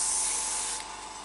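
An airbrush sprays paint for a color test on a portrait, giving a close, continuous airy hiss that eases slightly in level near the end.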